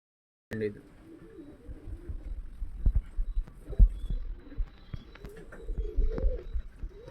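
Girebaaz pigeons coo softly in low, rolling phrases that repeat through the clip, with soft background noise and scattered thumps.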